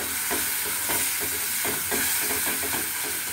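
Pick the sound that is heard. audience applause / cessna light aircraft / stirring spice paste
stirring spice paste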